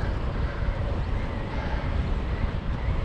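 Steady, rumbling wind buffets a cyclist heading uphill into a headwind, a dense low roar roaring against the microphone without a break and no voices over it.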